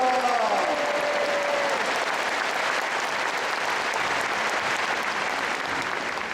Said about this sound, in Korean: 우리 총회를 통하여 큰 일을 행하실 하나님께 감사와 영광의 박수를 올려드립시다